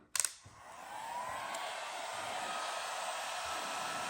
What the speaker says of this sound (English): then just take your heat gun